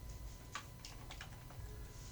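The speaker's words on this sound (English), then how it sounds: "we're going to go to the address bar and we're going to type in" Quick keystrokes on a computer keyboard as a web address is typed into a browser, a short cluster of close, light clicks in an irregular rhythm over a quiet background.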